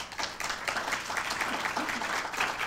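Audience applause at a 2002 Southampton College writers' reading, a brief burst of clapping from a room of listeners, moderately distant and steady for a few seconds.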